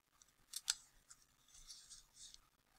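Scissors cutting out a paper hippo mask, a few quiet close snips with a couple of sharper clicks early on, then soft rustling cuts, faint and without talking.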